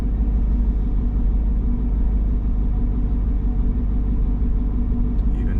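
Mercedes C55 AMG with M113 engine idling while running rich, a steady low rumbling drone that stays even and close.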